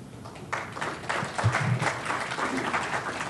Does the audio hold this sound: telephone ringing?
no